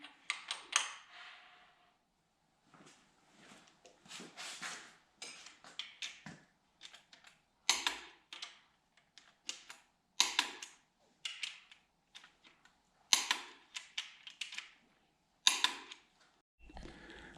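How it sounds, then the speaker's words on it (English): A torque wrench re-checks the bolts on a Datsun 280Z short block during an engine rebuild, sharp metallic clicks and ratcheting snaps in irregular close bursts separated by quiet gaps. "I'm going to go back and double check the torque on all of them."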